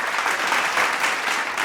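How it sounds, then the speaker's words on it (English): An audience at a tech policy panel event applauds steadily and fairly loudly throughout, a dense wash of clapping with no pauses. "So I hope you can give them a round of applause"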